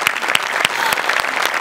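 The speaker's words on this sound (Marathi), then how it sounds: "जोरदार टाळ्या" A studio audience at a Marathi comedy show claps loudly and steadily, a dense burst of applause close to the microphone.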